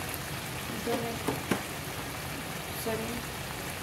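Chopped onions fry in a pan for a restaurant-style orange-flavoured fish curry, giving a steady, close crackling sizzle throughout with a few faint brief voice sounds.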